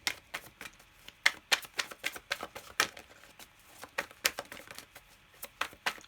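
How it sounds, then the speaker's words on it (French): Tarot cards are shuffled and drawn close up, giving a string of crisp, sharp card slaps and flicks in an uneven rhythm with brief gaps, no voices. "Attendez, je vais prendre une autre carte."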